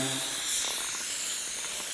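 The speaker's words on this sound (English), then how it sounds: "Spraying on the middle of the headliner first, all around the edges nice and good" Continuous hissing spray of adhesive from an aerosol can onto a Ford OBS truck headliner, close and even throughout, with no voices.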